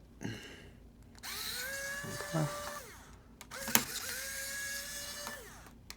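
Screws being backed out of the battery inside an HP 15-DY1043X laptop with a small electric driver, two whirring bursts of a few seconds each with faint clicks between.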